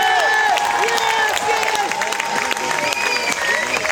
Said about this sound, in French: Vos applaudissements s'il vous plaît pour les 3 premiers des championnats de France